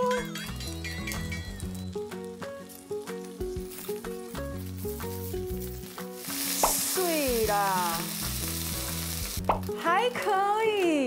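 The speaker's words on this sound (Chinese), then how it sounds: "最喜欢这种滋滋滋的声音" Vegetarian pies pan-frying in a home kitchen, sizzling steadily under background music, with a louder hiss surge partway through and a voice chattering over it.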